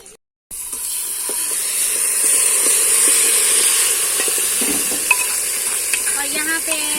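Curry with browned onions frying in a pot in a Pakistani village kitchen: a steady, loud sizzle and hiss after a brief quiet start, with occasional stirring and clinks.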